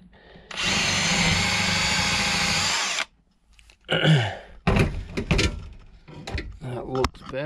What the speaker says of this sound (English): I'll just drill that out a little bit.